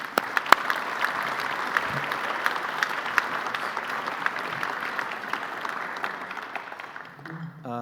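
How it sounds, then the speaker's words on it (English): An audience at the Canadian Club of Toronto applauds to welcome mining executive Sean Boyd to the podium, a dense and steady roomful of clapping that fades slightly at the end. "Round of applause and welcome."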